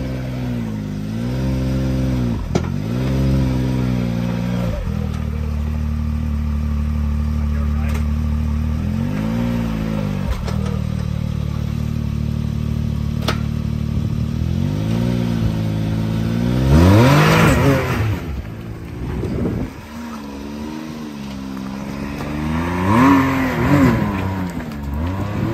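A 450 dirt bike on a wet off-road park trail revs hard and repeatedly, its engine note rising and falling through gear changes with sharp throttle bursts, close and loud, and faint voices in the background.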